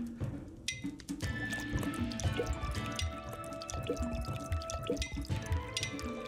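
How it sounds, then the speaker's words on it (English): Liquid pours and drips into a drink in a VR video game about pouring a drink for a robot, with steady trickling and scattered drips under game sounds for several seconds. "Pour drink to a bot."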